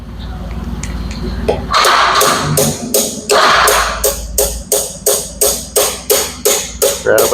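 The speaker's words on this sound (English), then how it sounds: "Grab a hammer and hit it" Sharp metallic hammer strikes on a New Holland tilt cylinder ring out, a few scattered blows and then a steady rhythmic run of about a dozen evenly spaced hits, loud and close.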